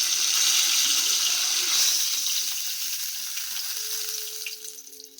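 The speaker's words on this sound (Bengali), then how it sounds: "মাছের উপর পরিমাণ মতো নুন হলুদ গুঁড়ো দিয়ে মাছগুলোকে ভেজে নিল" Fish pieces coated with salt and turmeric sizzle steadily in hot oil, a close, continuous crackling hiss that gradually softens toward the end, with no voices.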